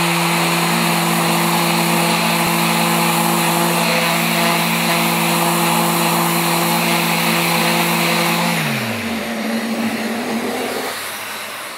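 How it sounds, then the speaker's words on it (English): A power sander runs on cured epoxy with a loud, steady motor hum and whirring, then winds down and stops near the end, leaving quiet room tone. "What we'll do is we'll sand it."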